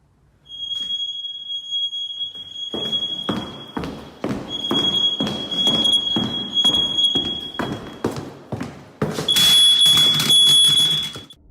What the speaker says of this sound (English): an alarm sounding somewhere inside the house